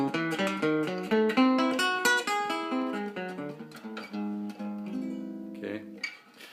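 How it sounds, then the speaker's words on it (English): Guitar plays an augmented arpeggio, picking single notes one after another in a fluid, ringing line. It starts busy and rapid, then slows into sustained tones before fading near the end. Moderately quiet with no speech. "You can also go into an augmented sound like this."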